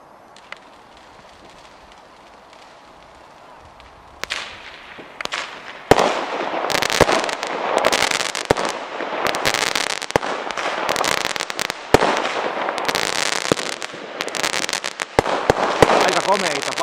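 Fireworks and firecrackers explode on New Year's Eve: after a quiet start, loud crackling bangs and sharp reports follow one another in a dense, irregular barrage that lasts to the end.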